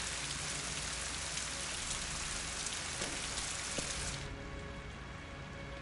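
Steady, dense rain in the video game Rise of the Tomb Raider hisses continuously with no pauses. Near the end it turns slightly duller and quieter.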